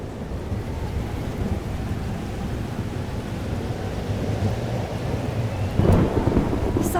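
A thunderstorm in the video game Life is Strange: Double Exposure, with steady heavy rain and a low rolling rumble of thunder that swells near the end.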